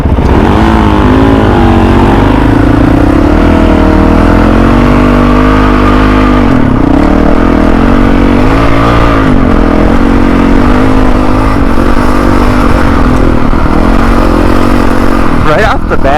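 A Honda dirt bike engine revs hard and pulls away, a loud continuous mid-pitched roar rising and falling with throttle changes, close by throughout.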